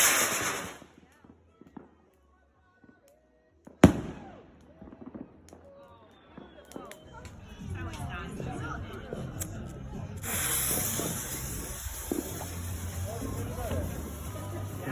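Bonfire Night firework rockets launch with a sharp bang, then fizzing, crackling bursts follow, heard outdoors at moderate distance while people talk in the background.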